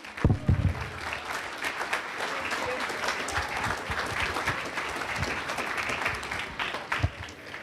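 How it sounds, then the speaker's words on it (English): Sustained applause from a crowd at a high school graduation commencement, steady dense clapping throughout, fairly distant and even, with a few louder claps near the start. "Let us give Ms. Reynolds another round of applause"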